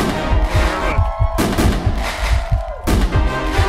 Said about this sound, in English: Those fireworks just get me.